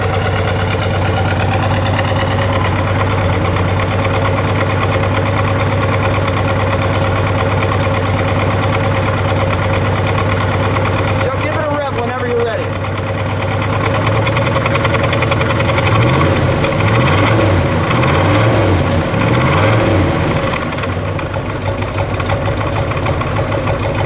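A 1970 Chevrolet Chevelle convertible with an LS6 454 V8 idles loudly and close up, a steady deep rumble with a slight lope and a brief dip and swell midway.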